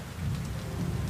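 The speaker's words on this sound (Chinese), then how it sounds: "还下这么大雨" Heavy rain pours steadily outdoors, a dense, even hiss of drops hitting surfaces with a low rumble beneath, with no voices.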